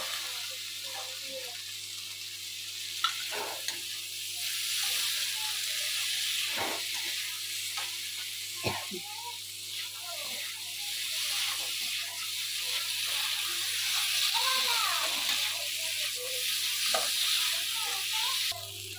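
Boiled potatoes frying and being stirred into a spiced chana dal curry, a steady close sizzle with scattered spoon scrapes and taps running throughout, no talking.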